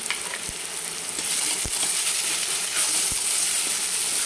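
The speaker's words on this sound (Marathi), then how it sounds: "फक्त एक मिनिटभर आपल्याला याला परतून घ्यायचं छान सगळे मसाले आणि कांदा टोमॅटो छान मिक्स झालं पाहिजे" Onion, tomato and spices sautéing in a pan for a mixed dal with drumsticks, a bright continuous sizzle with a few sharp clicks of a spoon stirring against the metal, close and without talk.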